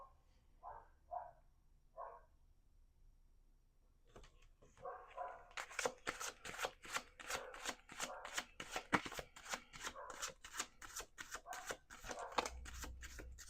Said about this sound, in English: We're going to do two more shuffles.